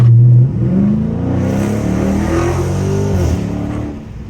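A Dodge Charger Scat Pack engine revs loudly and close by, its deep throaty roar rising and falling in pitch over several seconds.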